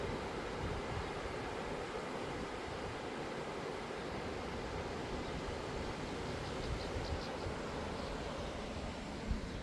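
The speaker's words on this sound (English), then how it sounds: "This is the top of the waterfall." Continuous broadband rush of falling water at the top of Cataract Falls, Indiana, heard from a covered bridge, a steady roar with no breaks and no voices.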